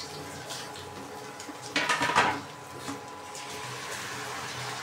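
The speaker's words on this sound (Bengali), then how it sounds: "এবার আমি দিয়ে দেবো এতে ধুয়ে রাখা চিকেন, ম্যারিনেট করে রাখা চিকেনটা।" Marinated chicken dropped into a cooking pot, a brief close clatter and wet splash against a quiet room background, followed by faint handling sounds.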